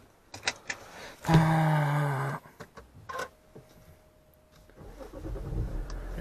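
A diesel car engine cranks and catches with a short loud rev, then settles while clicks and cabin handling noises follow and the engine rises again in a low hum.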